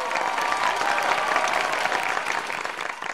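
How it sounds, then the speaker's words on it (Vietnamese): A studio audience at a Vietnamese TV singing competition applauds loudly with dense, continuous clapping that fades slightly toward the end. "một tràng vỗ tay ạ."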